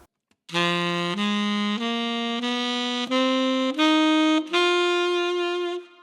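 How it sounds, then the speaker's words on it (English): Tenor saxophone runs up a G blues scale, six clear sustained notes stepping higher in pitch one after another, each held about half a second, played alone and close. "that's a blues scale in G for my beautiful tenor sax"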